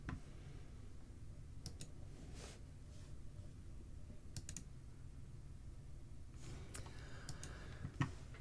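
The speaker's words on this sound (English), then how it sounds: "let me type something in it here" Quiet, sparse keystrokes tapped on a computer keyboard while text is entered in FrameMaker, coming as a few scattered click clusters over a low steady background hum.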